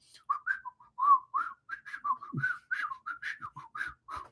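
Someone whistles a bouncy tune with many short, quick notes in a steady rhythm, moderately quiet, with a few soft thumps underneath.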